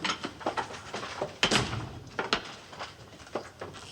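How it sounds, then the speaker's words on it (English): Wooden doors bang and clatter shut in an office, several knocks and thuds in quick irregular succession, close by, with no talking. "Shut the doors."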